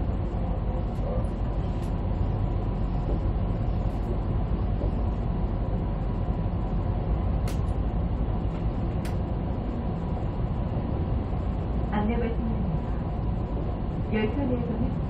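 A Gyeongbuk Line train between Yeongju and Yecheon stations, heard from inside the carriage: a constant low rumble of wheels and running noise, with a few faint clicks and rattles over the steady hum.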